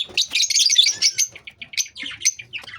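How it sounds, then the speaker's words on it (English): Lovebirds of several colours chirp and tweet in rapid, high, overlapping bursts, close and loud, with brief gaps between flurries. "Lovebirds. Different color of lovebirds."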